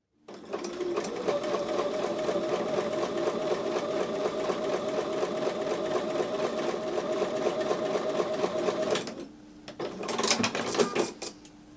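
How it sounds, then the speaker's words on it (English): A sewing machine stitching a quarter-inch quilt seam runs steadily at high speed for several seconds, stops briefly, then stitches again in a short burst. "I'm going to take those over to the sewing machine and sew a 1/4 inch seam"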